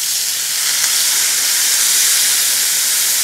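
Hot water hisses and sizzles steadily as it is poured into hot rice in a pan, a loud, continuous, even rush of steam with no talking.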